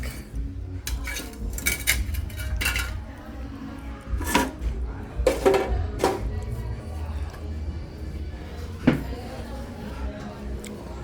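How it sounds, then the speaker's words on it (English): Cooking pots are set back down in an African home kitchen where bulgur is being steamed, giving scattered metallic clanks and clinks of varying loudness over a steady background rumble. "Okay, the pot is going back."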